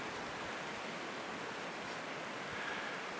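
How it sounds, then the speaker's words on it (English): Blizzard wind during a winter snowstorm in Newcastle, Maine, a constant loud roaring rush of air buffeting the microphone, steady and unbroken throughout with no talking. "Wind is blowing pretty good."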